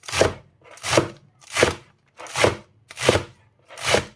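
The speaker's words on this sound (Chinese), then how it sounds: "用刀把它的根部给它切去不要，然后再改刀给它切成韭菜碎" A knife chops through a bunch of washed garlic chives on a cutting board in six evenly spaced, crisp crunching strokes, close and clear with no talking.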